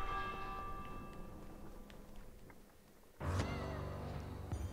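A bell in the video game Minecraft Dungeons rings out suddenly with a bright, resonant chime over soft background game music, sustaining and slowly fading.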